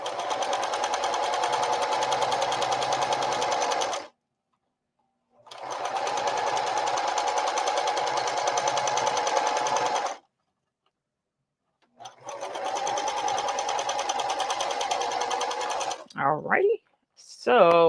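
A sewing machine stitches straight seams on a tote bag in three long, loud, even runs separated by silent pauses, with a brief voice at the very end.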